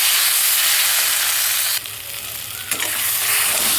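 Taro greens with prawns fry loudly in a pan, a dense, steady sizzle and hiss close by that dips briefly midway, then swells again as the greens are stirred.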